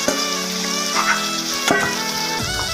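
Tomatoes tipped into hot oil with fried ginger-garlic paste for a tomato egg curry, giving a steady loud sizzle with a few clinks and stirring knocks against the pan.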